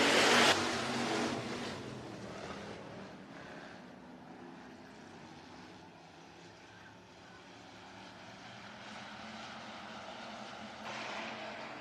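Hobby stock race cars at Worthington Speedway roaring off at the start of a race, a loud burst of engines at first that settles into a sustained, fluctuating drone from a distance.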